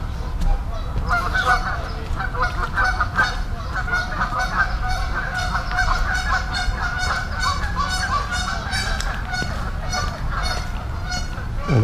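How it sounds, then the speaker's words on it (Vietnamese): A flock of geese honks loudly and continuously in a park, with constant overlapping calls that sound close by. "Mấy con ngỗng kêu quá."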